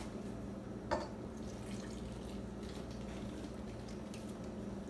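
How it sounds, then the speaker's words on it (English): Water poured into a bowl of chocolate cake mix, a soft, faint trickle and splash with one small slosh early on, quiet and alone. "Then you add your water."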